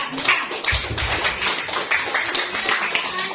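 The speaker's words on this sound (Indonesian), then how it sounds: "tepuk tangan untuk kelompok 4" A classroom group claps together, a dense burst of applause that stays steady and fairly loud throughout with no voices.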